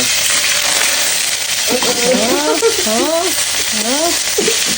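Steady broadband sizzle of pork frying in a hot pan, loud and continuous throughout, with a voice speaking over it in the latter half.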